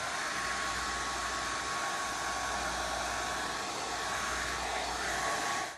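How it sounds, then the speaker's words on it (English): A blow dryer on low heat drying a glitter mask gives a steady, loud, unbroken rushing whoosh that stays even throughout. "So grab my mask, grab my blow dryer"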